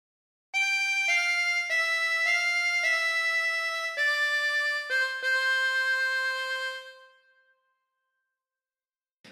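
Solo harmonica playing a short phrase of God Defend New Zealand, a series of clear sustained single notes stepping through the melody, close and clean, ending in silence.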